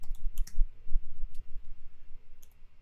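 Keys clack on a computer keyboard as text is typed into an Excel spreadsheet, with short bursts of sharp, close clicks, irregular pauses and a low background hum.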